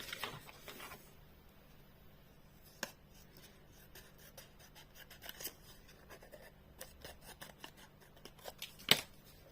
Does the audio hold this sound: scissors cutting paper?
yes